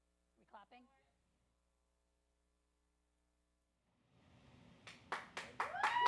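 Applause breaks out during a virtual fundraising benefit auction for Kate's Club, a short burst of hand claps rising out of a faint hum after a brief bit of speech at the start.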